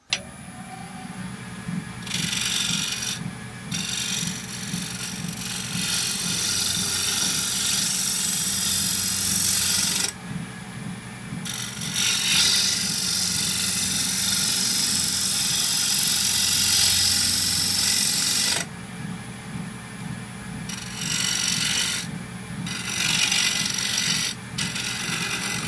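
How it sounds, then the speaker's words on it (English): A sharp gouge makes pull cuts shaping an idigbo wood bowl on a running lathe. Rough scraping bursts stand over a constant motor drone, broken by short pauses between passes. "let's play with the shaping with the pull cut now."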